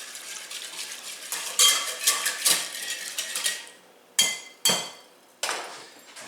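Salt is whisked into a bowl for Italian bread dough, with quick metallic clinks and scrapes of the whisk against the bowl, close by, in an uneven run of taps followed by a few sharper separate knocks.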